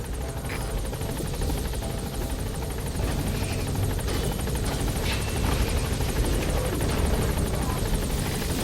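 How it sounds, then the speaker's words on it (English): A helicopter in Metal Gear Solid V comes in to land with a loud, continuous rotor roar and whine that fills the scene without a break. "chopper's touching down"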